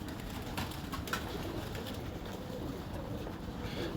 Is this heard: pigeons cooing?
yes